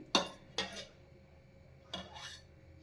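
A spoon clinks and scrapes against a cooking pot while ghee is added: three short, separate metallic knocks with light rubbing, fairly quiet, no talk.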